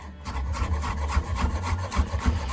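A kitchen knife rocks across a chopping board through garlic, giving rapid, steady rhythmic scraping taps up close at a moderate level, with no talking.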